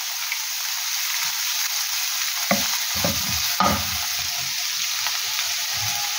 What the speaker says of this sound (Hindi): हल्के से ऑयल में प्याज डालने हैं, प्याजों को लाइट ब्राउन सा करना है